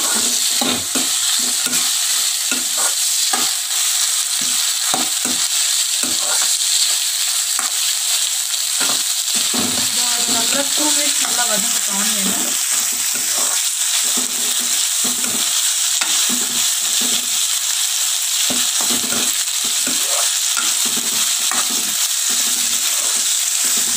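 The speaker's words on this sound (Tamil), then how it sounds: "இப்போ நல்லா வதக்கியாச்சு நம்ம வெங்காயத்தை" Onions sautéing in a pan for a plain kurma give off a steady, close sizzle that runs the whole time. Spoon-stirring scrapes and knocks come through repeatedly, and no one speaks.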